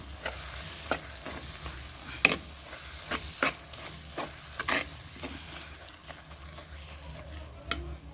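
A spoon stirs chili powder into frying kuzhambu in a pan, giving scattered scraping clicks and short bursts over a steady, low sizzle, fairly close and without voices.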